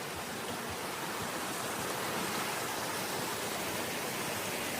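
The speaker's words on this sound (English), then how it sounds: "Another waterfall." Waterfall and creek on a Paris Mountain hiking trail, heard as a constant broadband rush of falling and flowing water, steady and fairly loud throughout with no voices.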